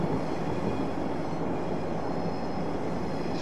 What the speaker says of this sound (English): CSX, pulling some cargo right there.